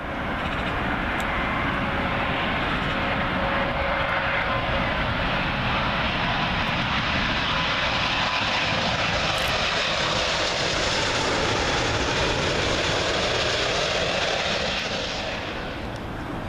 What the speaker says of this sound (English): Also coming in from Newark, Liberty, British Airways 777 One World livery.